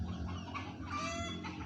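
Chicken chicks in a flock of about twenty chirp and cluck softly nearby in a brief, faint burst of overlapping peeps.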